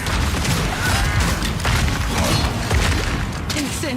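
Armor-piercing crossbow bolts in Path of Exile 2 loose a rapid volley of sharp, splintering impacts and mechanical clacks, several hard hits spread over a few seconds, loud and close.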